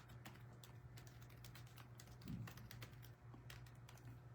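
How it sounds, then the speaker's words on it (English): Fingers tap steadily on a computer keyboard, a quick run of soft, close keystrokes over a quiet room with no talking. "let me type this"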